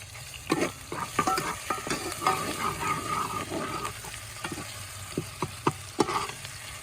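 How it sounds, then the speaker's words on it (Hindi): Garlic-ginger paste sizzles in a frying pan for chicken biryani, a soft, close crackle with irregular sharp scrapes and taps of a stirring spoon against the pan. "ये अब लहसुन अदरक का पेस्ट डालेंगे।"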